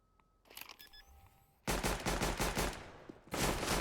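Sustained rapid automatic gunfire in a Counter-Strike: Global Offensive duel on the Train map, loud and close, starting after a quieter stretch of game ambience with faint electronic tones, with one brief pause before another burst.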